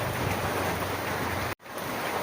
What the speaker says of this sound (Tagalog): Ayan na, lumakas na naman ang ulan.